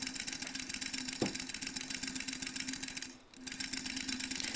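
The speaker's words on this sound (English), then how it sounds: "There's the sound of the featherweight sewing on the fabric." A Featherweight sewing machine stitching through fabric, a fast steady mechanical whir with a low hum, one sharp knock near the start and a brief pause before the running resumes, close and without talk.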